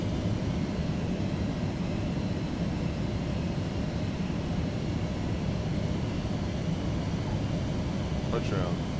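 Airplane touching down on a runway, a steady loud broadband rumble of engine and airflow filling the whole stretch without a break.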